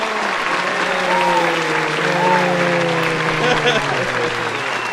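A crowd applauds steadily throughout, a dense wash of clapping, while someone talks over it.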